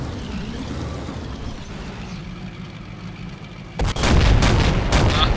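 Tank blown up in a video game war battle on the Eastern Front: after a low engine-like rumble, a sudden loud explosive boom breaks in and is followed by sustained crackling blasts, with no voices.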